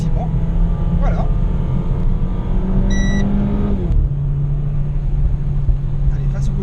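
A Renault Clio 4 RS accelerating steadily on the Bourbonnais race circuit, a loud continuous engine drone from inside the cabin with the revs climbing, then dropping back after a gear change.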